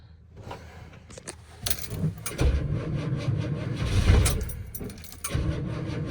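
A 6.2 Detroit diesel engine cranks and catches in bitter cold. Keys jangle first, then a low, rough engine rumble builds close and loud and keeps running to the end.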